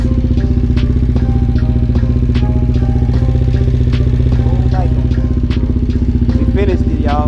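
A 1998 Suzuki TL1000R motorcycle engine runs steadily and loudly up close with a dense, rumbling, even beat, while scattered clinks and light rattles sound over the engine throughout.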